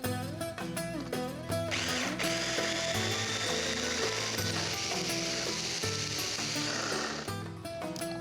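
A food processor pulverizes chickpeas for Greek chickpea fritters, whirring loudly and steadily with a grinding, rattling churn that stays close and continuous throughout.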